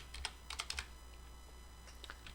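Quick bursts of clicky keystrokes on a computer keyboard while typing CSS code, close but quiet, in two short flurries separated by a pause.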